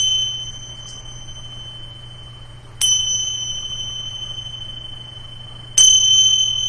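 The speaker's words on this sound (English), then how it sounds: "listening to the sound of the bell to awaken" A meditation bell is struck three times, well spaced; each clear metallic tone rings on and lingers over a steady low hum.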